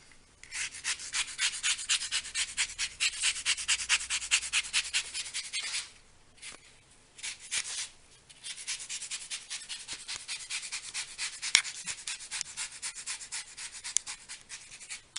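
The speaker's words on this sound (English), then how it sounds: "we're just gonna zest a little bit of lemons on top of the cake" A zester scrapes fresh lemon over a bundt cake in quick, close, rhythmic rasping strokes, a long run, a short break, then another steady run.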